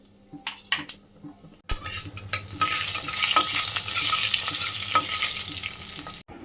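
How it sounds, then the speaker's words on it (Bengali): Panch phoron and dried chilies drop into hot mustard oil after a few clinks of utensils, and a loud, dense sizzle then crackles on steadily up close. "এবার এর মধ্যে দেব 5 ফোড়ন আর শুকনো লঙ্কা"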